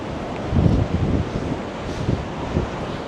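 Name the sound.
strong gusty wind on a seaside promenade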